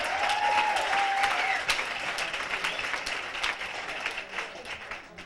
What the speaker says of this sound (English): Applaud if you're a non-cigarette smoker.